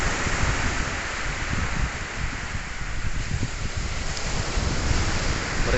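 Waves wash against a beach shore at Desa Nunapan Baru with wind blowing across the microphone, a continuous broadband rush with no voices.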